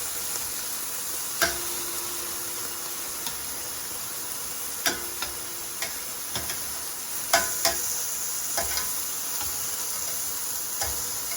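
Steak strips sear in a hot pan with a steady bright sizzle, broken by occasional sharp clicks and taps as pieces are turned, close and continuous with no voices.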